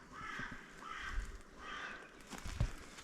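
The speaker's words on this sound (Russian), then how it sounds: "Прекрасные звуки. Поют птицы." Crows caw outdoors, a few harsh calls repeating at a moderate distance, with faint rustling and footsteps in the undergrowth.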